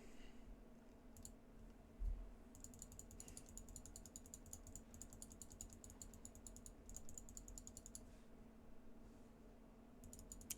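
Rapid, steady clicking of a computer mouse during a fast-paced game, appearing as bursts of crisp ticks over a constant low hum, close and fairly quiet, with no talking.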